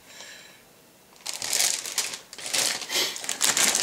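Small plastic bags holding model kit parts rustle and crinkle close up in several bursts after a brief quiet start.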